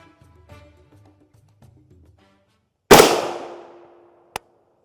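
A rifle fires a single shot at a sample of body armor, one loud close blast with a ringing decay, followed a moment later by a sharp metallic clank.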